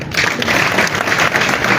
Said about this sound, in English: first allow me, all of you, to give a big applause